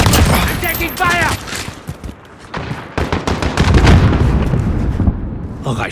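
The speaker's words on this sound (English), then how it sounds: "I'm taking fire!" Close, loud bursts of automatic gunfire and scattered single shots in a Call of Duty: Modern Warfare (2019) multiplayer match, dense and continuous with a short lull, mixed with game voice callouts.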